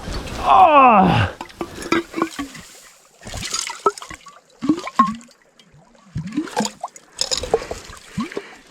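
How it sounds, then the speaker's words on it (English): Splashing and trickling water as a bottle is filled in an icy snowbound creek in the Australian bush, a loud gurgle at first, then scattered splashes and movement under breathy exclamations. "Not the easiest way to fill up water."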